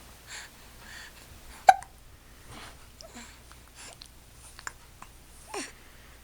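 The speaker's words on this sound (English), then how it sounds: "You don't seem super enthusiastic about having hiccups." A baby hiccups several times, with short, sharp little gasps spaced irregularly, one louder jolt early on, plus soft breathing and sniffs close by in a quiet room.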